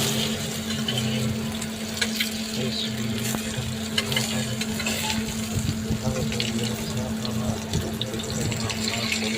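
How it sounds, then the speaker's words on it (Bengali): Pointed gourd (potol) fries in oil for a soybean-egg curry, giving a steady, close hiss with scattered crackles over a low hum and no talking. "হালকা পটলটা ভাজা হচ্ছে"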